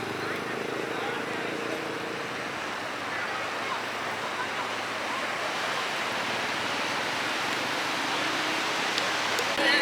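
Sea waves at Nagaon Beach, Alibaug make a continuous broad wash of surf, an even hiss and rumble with no distinct breaks.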